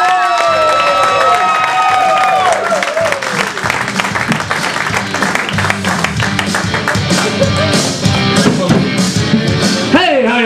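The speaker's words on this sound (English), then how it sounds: "so give him a round of applause." Comedy club audience applauding and cheering a stand-up comedian as he takes the stage, sustained loud clapping with whoops over some lingering music at the start, continuing for about ten seconds.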